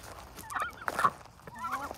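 A Muscovy duck, a drake with iridescent green back and white underparts, gives several hoarse, breathy calls in short bursts, fairly close, with a quiet outdoor background.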